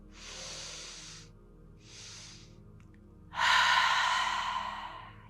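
Slow breaths drawn and released during an evening yoga session for sleep, ending in one long, loud, airy exhalation through the mouth after two softer breathy passes, close and alone without talk.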